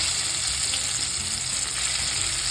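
Mutton sizzling steadily in a hot pan as spice masala goes in, a dense continuous frying hiss with faint stirring, close and loud with no voices.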